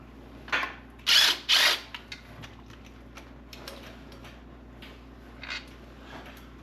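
A ratchet removing intake manifold bolts from an engine, a few short clicking ratchet bursts close by, two louder back-to-back, then faint scattered ticks over a low steady hum.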